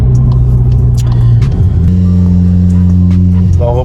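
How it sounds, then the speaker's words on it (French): Car launched hard under launch control with a valved exhaust, the engine droning loud and steady, then pitching up as it pulls through the gears, close and dominant with some talking mixed in. "Là, on reprend en launch control."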